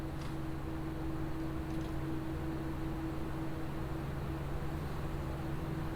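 Constant soft whooshing hiss with a faint low steady hum from idling Geomatric Future Junior Eskimo 36 and 2503B/W PC case fans, an unchanging airflow drone heard from close range with no other sounds.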